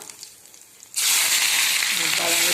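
Quiet murmur, then a sudden loud burst of sizzling as spices, garlic, onion, green chili, tomato and cumin hit hot ghee for a bajra khichdi tempering, continuing as a steady, bright crackling hiss.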